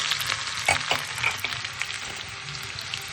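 Dried red chilies, onion and garlic frying in hot oil, a close, busy sizzle broken by several sharper crackles and stirring scrapes, steady for about three seconds with no voices.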